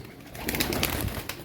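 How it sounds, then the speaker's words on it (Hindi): Domestic pigeons being released to fly, a short burst of fluttering wingbeats and bird sounds, moderately loud, with no talking. "वो ऊपर एक जाल पे कबूतर बैठा हुआ है"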